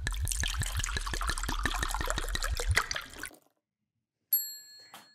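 A green smoothie pours out of a blender in a gurgling stream with rhythmic glugs for about three seconds, stops, and then comes a bright ding.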